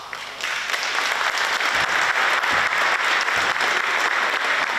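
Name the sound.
parents applauding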